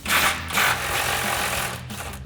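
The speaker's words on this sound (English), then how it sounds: "we're gonna grab our impact and 24mm socket on our nut here" An impact wrench with a 24mm socket hammers a lower control arm nut loose on a 2009-2018 RAM 1500, giving a loud, steady rattling buzz that lasts for about two seconds, close up.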